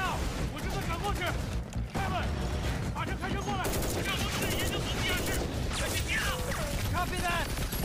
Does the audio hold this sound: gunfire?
yes